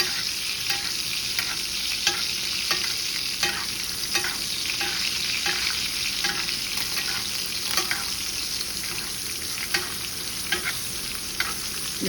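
Steak sizzling steadily in a hot pan with browned, nutty butter as it is basted, a dense continuous fry with small spoon and pan clinks recurring throughout, close and fairly loud, no talking.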